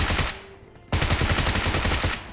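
PUBG Mobile gunfire: after a quiet moment, a loud burst of rapid automatic shots fires in a continuous rattling stream for over a second, with no speech.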